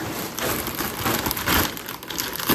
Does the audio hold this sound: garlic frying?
no